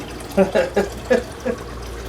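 Water is poured into a pot on the stove in a few short, close splashing bursts, spaced unevenly over about two seconds.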